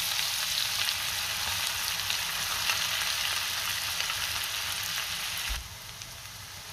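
Chopped onion sizzles steadily in hot oil and butter, a dense, even crackle close by with no voices, briefly shifting near the end as the pan is stirred.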